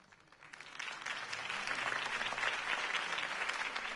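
Crowd applause in the Batman Telltale video game, swelling from a quiet start into a steady, dense wash of many hands clapping that holds to the end.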